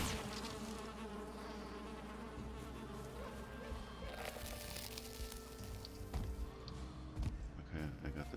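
A bee buzzes steadily and close in the game Valheim, a continuous droning hum that carries on under a person talking.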